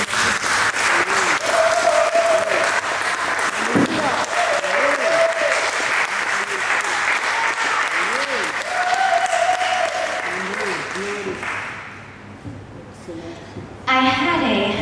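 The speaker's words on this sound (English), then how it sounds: "give the Lord a hand clap." Hand clapping and applause from a crowd at a women's gathering in Jerusalem, loud sustained clapping with voices calling out over it, fading near the end before a voice resumes.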